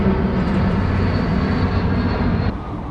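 A jet aircraft passes overhead above a South Florida canal during a day of peacock bass fishing, a loud, steady broadband roar that holds for most of the moment and then drops off abruptly near the end.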